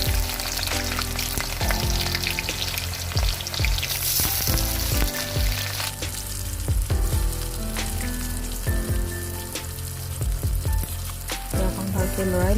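Chopped onions fry in hot oil with bay leaves and dried red chillies, sizzling in a steady, loud crackle, with spatula scrapes and stirring knocks throughout.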